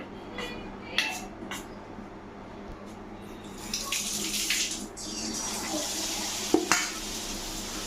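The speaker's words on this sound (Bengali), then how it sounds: "এখন আমি ভেজে নিব আমি একটা একটা করে ছেড়ে দেবো ওর মধ্যে" Potato balls are dropped one at a time into hot oil, each landing with a soft splash and a burst of bubbling sizzle over a low background hiss, with the frying growing fuller as more are added.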